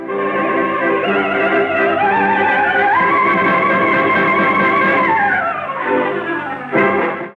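An opera soprano sings the close of Abigaille's cabaletta: a loud, continuous sustained voice with rich harmonics and vibrato, rising then descending through a passage before a brief final accent, with accompaniment underneath.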